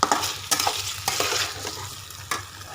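Soya chunks frying in a pan on a low flame with onions and bell peppers, stirred with a spatula, a steady sizzle broken by several sharp scrape-and-clack strokes.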